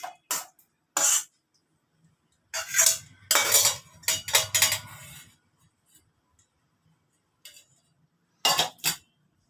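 Soaked Gobindobhog rice is stirred into cold milk in a pot, where a spoon clinks and scrapes against the metal. Short bursts of clanking come in an irregular rhythm, separated by silence.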